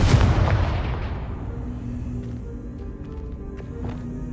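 A Confringo blasting spell explodes in Hogwarts Legacy with a loud, deep boom at the start. A long rumbling tail follows and slowly fades, with faint clicks and small noises over it.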